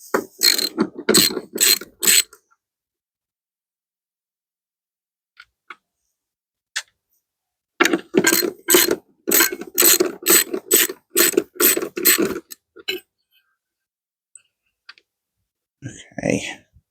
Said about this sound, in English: all the bolts are coming undone